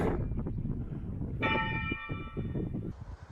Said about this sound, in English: You go through the different villages and just hear the bells.